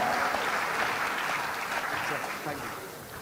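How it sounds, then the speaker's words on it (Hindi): Crowd at a formal event gives a chief guest a hearty welcome with a continuous wash of applause from many hands, loud at first and gradually fading toward the end. "जोरदार तालियों से स्वागत हमारे मुख्य अतिथि श्री अरुण सिंह जी का।"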